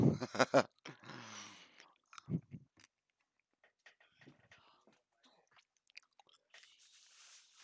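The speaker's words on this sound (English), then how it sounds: "Hear me munching away on my hamburger." A hamburger being munched close to the mic, wet chewing and biting bursts at the start, then quieter sporadic chews with a bit of murmured voice in between.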